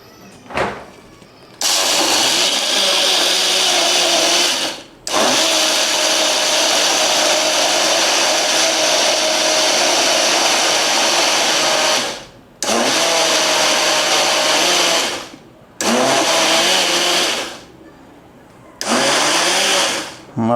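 Kitchen mixer grinder blending mango mastani in repeated bursts, a loud steady whirring roar running several seconds at a time and stopping in between, with brief quiet gaps and clatter.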